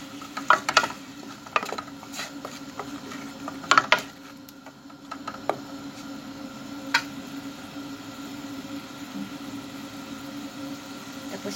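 Chicken majboz seasoned with salt and black pepper is stirred in a pan, with irregular spoon clicks and scrapes over a continuous low sizzle, busier at first and calmer later.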